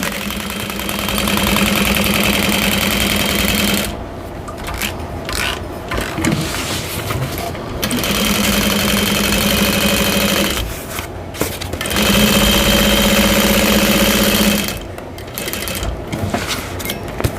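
A sewing machine stitches the lining of a bag pocket for a bowler bag, running in several loud, close bursts of steady whirring separated by short pauses with small handling clicks.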